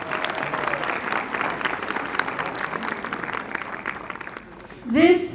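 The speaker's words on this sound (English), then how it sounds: "We can have a round of applause for them." A crowd at a school commencement ceremony for the graduating class of 2019 applauds with sustained, dense clapping for several seconds, with some voices mixed in, before it tapers off and a brief louder sound cuts in at the end.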